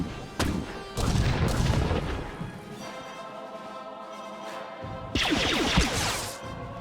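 Blaster gunfire and explosive booms in the Star Wars: The Old Republic video game, on the prison planet Belsavis: sharp loud shots and thuds in bursts, a quieter stretch, then another heavy volley of rapid fire.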